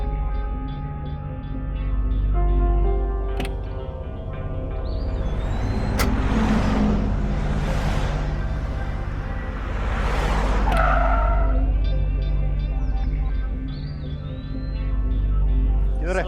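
A car pulls away with tires skidding and squealing, several screeching bursts over an engine hum, heard amid a dramatic scene with a musical score.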